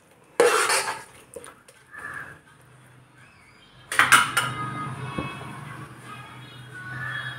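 Ground tomato is stirred into fried onions in a cooking pan during preparation of Arabian kabsa, with scraping and clinking bursts of spoon against metal, separated by quieter gaps.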